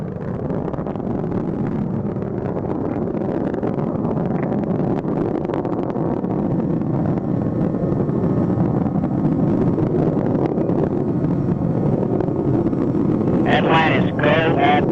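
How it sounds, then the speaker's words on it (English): Space Shuttle Atlantis's main engines roar in a continuous broad rumble during launch, dense and unbroken, with a commentator's voice talking over the noise. "Engines now revving up"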